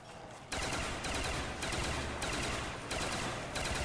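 Upgraded FN FAL burst fire in Call of Duty: Black Ops zombies, dense loud gunfire in repeated bursts with short gaps between them.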